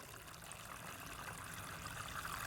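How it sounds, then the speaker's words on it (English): Water from a rain barrel pours steadily into small inexpensive dollar-store pots in a garden, a continuous close trickling splash running the whole time without pause. "I fill them with water from the rain barrel"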